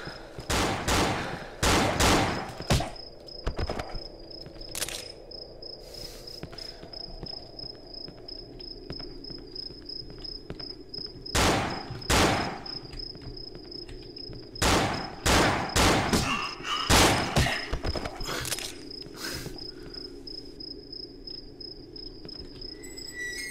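Gunfire in the horror game Cry of Fear rings out in sharp, close bursts of shots separated by quieter stretches, over a faint steady high tone.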